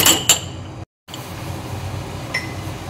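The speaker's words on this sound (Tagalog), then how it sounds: "Tapos ibalikan natin ulit yung mga baso." Drinking glasses set back down one by one on top of a coffee machine after cleaning, with a few sharp clinks near the start and another light clink later over a steady background hum.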